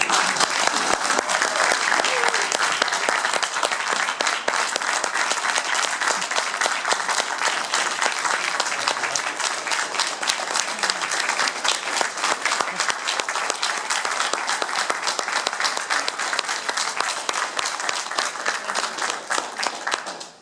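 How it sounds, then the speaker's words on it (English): Sustained, dense applause from a large crowd at a Purple Heart ceremony, steady and loud for about twenty seconds before cutting off at the end. "I'd like to give them a round of applause for 40 years."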